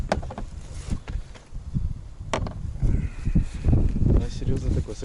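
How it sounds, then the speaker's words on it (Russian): Wind buffets the microphone in uneven gusts while people talk nearby outdoors in the taiga while fishing, with occasional knocks and rustling. "ветер такой"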